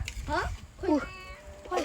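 A cat meows three times in short, rising calls, fairly close, with faint background noise between cries.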